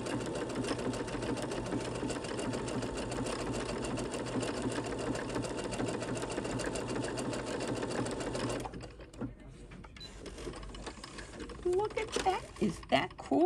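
A home sewing machine stitches a decorative scallop pattern with a twin needle, its steady rapid motor whir running for about eight seconds before stopping, followed by quieter handling clicks and brief talk.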